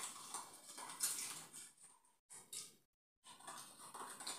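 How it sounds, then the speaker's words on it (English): A spoon stirs Christmas fritter batter in a bowl, giving soft scraping and clinking sounds that run steadily with two brief pauses, close and fairly quiet. "I'm going to mix it with a spoon"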